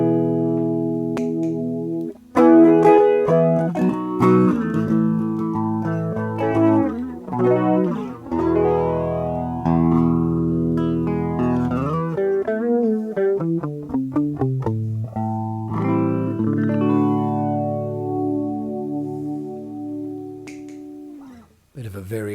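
Electric guitar run through a swishy, jet-like effect pedal on a pedal board, chords and notes sweeping with a whooshing, shifting tone, played continuously and fairly loud with short gaps between phrases.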